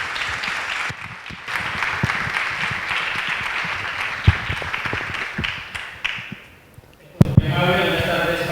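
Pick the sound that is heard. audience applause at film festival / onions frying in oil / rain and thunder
audience applause at film festival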